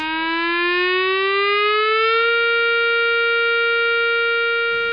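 COMAH all-clear siren at the Fawley site: a loud, steady electronic tone that sweeps up slightly at the start and then holds one continuous pitch, sounding alone with no talk.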